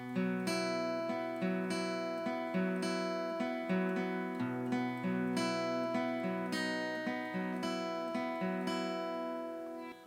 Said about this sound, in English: So altogether, the picking pattern for G is going to sound like this.